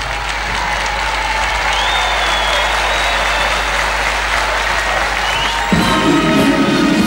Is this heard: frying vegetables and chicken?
no